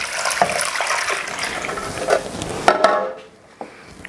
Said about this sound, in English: So I'm adding water to this.